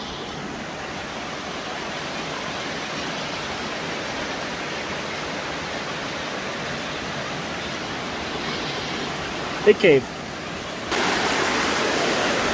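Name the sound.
running water inside a wind cave in Wyoming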